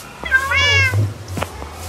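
A cat meows in Minecraft, one clear rising-falling mew close up over a low steady hum, followed by a few soft clicks.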